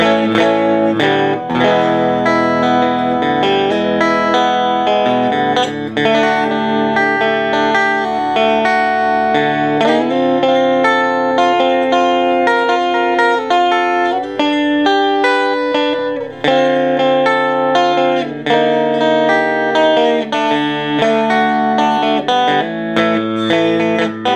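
An electric guitar with piezo and humbucker pickups rings out sustained, distorted chords through an amp, with shifting harmonies played continuously and loudly.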